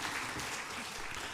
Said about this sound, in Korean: 우리 하나님께 큰 박수 하겠습니다.